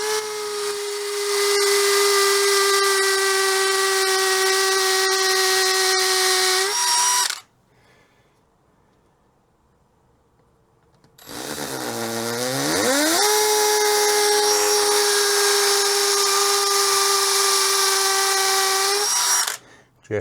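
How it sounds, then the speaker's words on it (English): A small drill bit bores pilot holes for a garden hose bracket, with two loud, steady high-pitched whining runs split by a few seconds of near silence. "First, drill a small pilot hole with a small drill bit"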